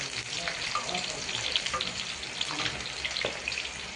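Garlic frying in hot oil in a pan, a loud, steady sizzle and crackle filling the whole stretch, close up, with no voices.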